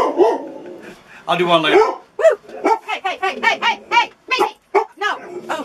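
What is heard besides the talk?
dog barking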